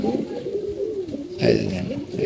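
Pigeons in a loft coo close by in soft, rolling throaty calls, with a louder burst of cooing midway and faint background voices.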